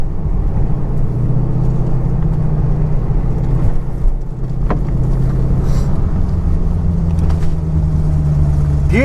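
A Dodge Hellcat race car on a track, its engine a loud, steady low rumble close by, with some faint voices in the background.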